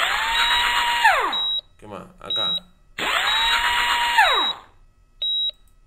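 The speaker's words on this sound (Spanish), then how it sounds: "tenemos el torno para hacer 6 perforaciones en el hueso." A surgical bone drill in the video game Operate Now, used during scoliosis surgery, whines in two long sustained bursts that rise and then drop away. Short beeps sound between them and at the end, and someone talks briefly in the gaps.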